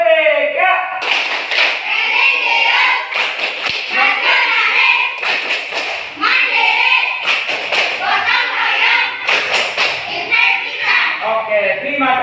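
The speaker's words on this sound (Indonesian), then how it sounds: "tunjukkan semangat kalian lewat tepuk PPK" Students stand in a classroom and perform the PPK rhythmic clap routine, loud patterned bursts of hand claps mixed with chanted voices and pauses between phrases.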